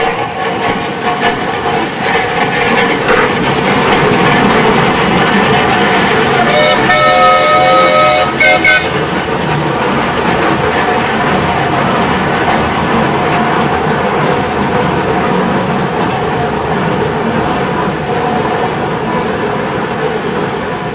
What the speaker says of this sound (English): The engine itself is very quiet. It's the steel wheels and the rocks.